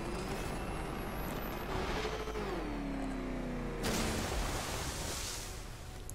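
Car engine revving in Batman: Arkham Knight during a Riddler race track challenge, a rising and falling engine whine that sweeps up and then cuts to a louder burst of roaring noise, with no talking.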